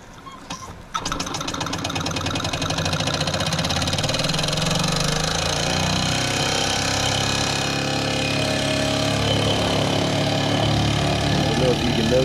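A Mamod SR1 toy steam engine, a forward-only runner fed with very wet first steam, chuffs in a fast steady rhythm after a brief start, close and fairly loud, running on without talk over it.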